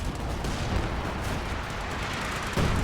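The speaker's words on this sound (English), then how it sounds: "There is the barrage coming in as well with the red flare here." A World War I trench-battle game artillery barrage, a dense continuous rumble of blasts and gunfire with a heavier hit near the end.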